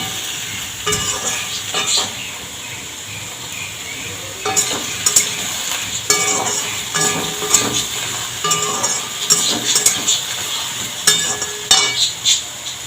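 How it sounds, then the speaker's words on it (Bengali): Bottle gourd (lau) sizzles as it fries in a pan, a steady hiss broken by repeated scraping, stirring clatters of a spatula against the metal, close and fairly loud, with no talking. "লাউটা ভাজা হোক।"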